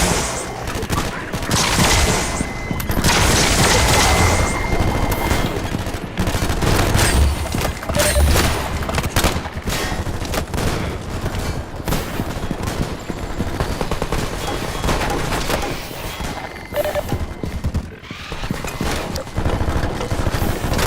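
New guns fire during a tough combat set piece in The Division 3 demo: dense, continuous bursts of rapid gunfire and heavy shots crackle loudly and almost without pause throughout.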